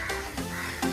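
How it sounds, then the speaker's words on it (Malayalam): Crows in a tree give three loud, harsh caws in quick succession. The calls are close and stand alone, with no voices. "ഇവിടെ കാക്കകൾ ഭയങ്കര ഒച്ചപ്പാടുണ്ടാക്കുന്നുണ്ട്."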